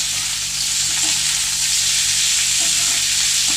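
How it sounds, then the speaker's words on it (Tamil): Onion and curry leaves sauté with spices in a hot pan, giving off a loud, steady sizzle and crackle throughout, with no voices. "இப்போது அதில் ஒரு வெங்காயம் சேர்த்துக்கோங்க. அதையும் நல்லா வதக்கிக்கோங்க."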